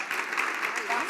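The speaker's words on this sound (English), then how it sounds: "Round of applause, everybody" Audience applause closing a session at a media industry conference, a steady wash of clapping from a crowd that runs throughout the short moment with no gaps.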